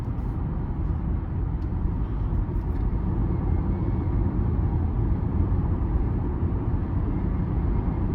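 A 2023 Chevrolet Equinox RS with its turbocharged engine pulls steadily from inside the cabin, a loud, continuous low roar blending engine and road noise without a break.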